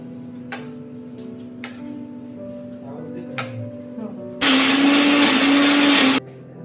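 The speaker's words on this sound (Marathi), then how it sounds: "आता हे जे आहे ते मी मिक्सरला वाटून घेते" A mixer grinder whirs loudly in a short burst of about two seconds grinding a spice paste with cumin, starting and stopping abruptly after quieter background sounds and clicks.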